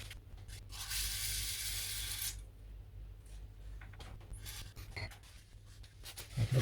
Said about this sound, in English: I'll give them a little spray of oil.